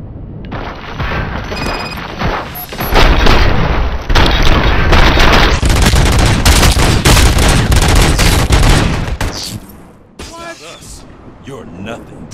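Sustained gunfire in RoboCop: Rogue City: dense, loud volleys of shots and booming impacts pound almost continuously for several seconds, then thin out, with voices talking before and after the barrage.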